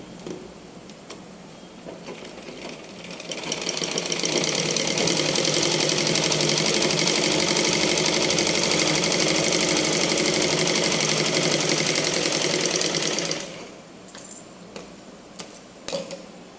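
A sewing machine stitches a blouse front, a loud continuous mechanical whir starting around four seconds in and running steadily for about ten seconds before stopping, with quieter handling noises before and after.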